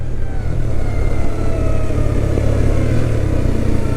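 A motorcycle engine braking after a downshift with the clutch released, a loud, close, steady engine drone throughout without breaks.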